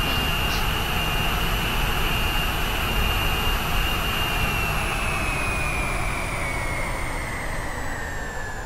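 Jet airplane engines running in the Simple Planes flight game, a loud, constant roaring whine with a high steady tone that slowly drops in pitch over the span.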